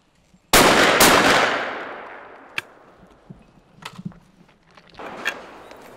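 Shotgun fired at a clay pigeon target at a shooting ground in Gironde: two sharp, loud blasts a half-second apart with a long decaying echo, followed by faint scattered clicks and handling noises.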